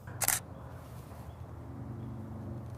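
A single-lens reflex camera fires one shot at a slow 1/60 s shutter speed, a single sharp mechanical click-clack near the start, then only quiet room hum.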